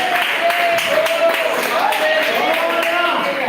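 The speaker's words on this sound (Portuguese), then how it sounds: "com palmas bem fortes, palmas bem alegres para Jesus" A church congregation claps loudly and joyfully in a steady rhythm during a service, the claps running continuously under sustained singing or music.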